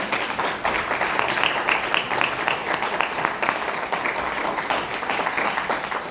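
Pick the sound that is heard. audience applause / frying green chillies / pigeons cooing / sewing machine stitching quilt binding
audience applause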